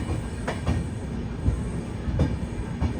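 A train rolls into Ajmer railway station in the hills, with a steady rumble of wagons and a few faint wheel squeals and clacks, heard close and alone without talk.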